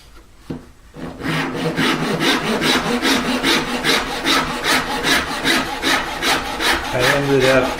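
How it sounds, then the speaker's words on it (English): A waxed hand saw cuts through wood for an electric guitar build, rasping in quick, even back-and-forth strokes after a couple of light taps, close and loud with no talk. "I'll double check it with my rule before I actually saw it."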